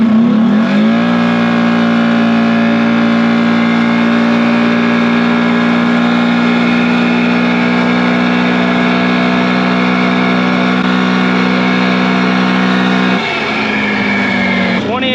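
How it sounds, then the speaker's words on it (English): A 450 ATV fitted with a CVTECH clutch revs hard in four-wheel drive low during a pull, holding a loud, strained, steady engine drone for about twelve seconds before the pitch shifts and eases near the end. "I'm gonna do a pull, another four-wheel drive pull in low, and see what happens"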